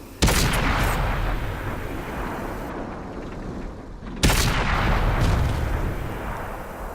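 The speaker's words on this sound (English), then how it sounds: "So I'm currently unloading into him with premium" Tank cannon fire with premium shells against a Panther in the video game World of Tanks: two heavy, booming shots a few seconds apart, each followed by sustained mechanical rumble and battle noise, with no talk.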